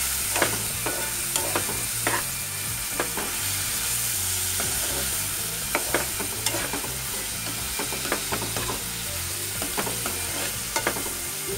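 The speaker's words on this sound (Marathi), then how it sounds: "आता हे आपल्याला चांगलं फ्राय करून घ्यायचं। कांदा गुलाबी झाला पाहिजे," Dry prawns fry with onion and tomato in a pan, a continuous close sizzle broken by frequent short scrapes and clicks of a spatula stirring against the pan.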